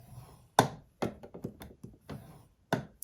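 Paper is scored on a scoring board, with a series of sharp taps and short scraping strokes close by, in irregular bursts separated by brief pauses.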